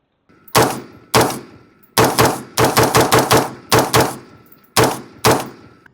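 A rapid series of loud, sharp gunshots rings out in uneven bursts, about a dozen reports with short decaying tails, some spaced singly and several fired in quick succession, with no talking.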